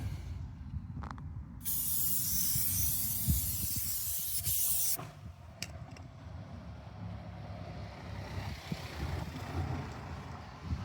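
Steady hiss of an aerosol spray onto a car tyre runs for several seconds, then stops, followed by quieter rustling and handling noises close by.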